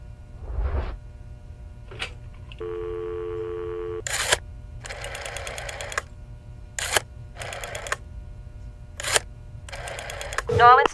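Telephone keypad tones in the Cadenza video game as the number 824 is dialed, with a steady dial tone followed by several short, sharp beeping presses spaced across the clip.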